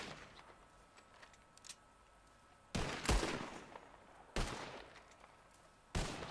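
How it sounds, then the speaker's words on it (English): Gunshots fired into the sky in Red Dead Redemption 2, three loud separate blasts spaced a couple of seconds apart, each trailing off in an echo over a quiet outdoor background. "Einfach so in den Himmel rausknallen."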